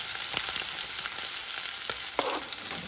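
A medium-sized onion frying in a pan, a dense steady sizzle with light scraping from stirring, close and continuous with no voices.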